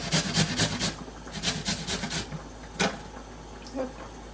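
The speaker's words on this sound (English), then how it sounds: "I use this side of the grater." Vegetables are rubbed against a hand grater in a home kitchen, a series of quick rhythmic rasping strokes close to the microphone, then a few slower scrapes trailing off.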